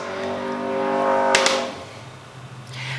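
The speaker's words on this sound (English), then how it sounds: "I'm sorry if you hear cars going like nuts in the background." A car engine revs hard with a rising whine, then fades as it speeds away in the distance, followed by a brief clatter.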